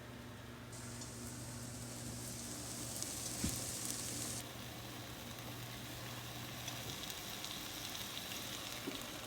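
Apple cider vinegar sizzles steadily in a hot pan as it deglazes the fond for birria, a continuous broadband hiss that swells briefly in the middle, with light scraping touches and no talking.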